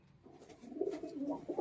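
Female racing pigeon cooing softly while being handled, a few short, low throaty coos rising toward the end, close and faint, with no talk.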